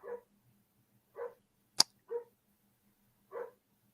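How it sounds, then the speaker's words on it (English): A dog barking from a distance while sleeping by the door, four short separate barks spaced irregularly over a quiet room, faint and alone, with one sharp click between them. "I hear my dog barking for some crazy reason"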